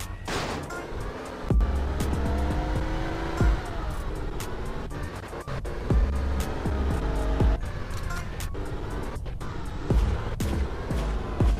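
Car race in the Grand Theft Auto San Andreas game: continuous revving engines with shifting pitch, repeated sharp crashes and impacts, and a busy layered game mix throughout, no speech.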